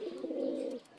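An adult male pigeon gives a single short, soft coo lasting under a second in a quiet setting.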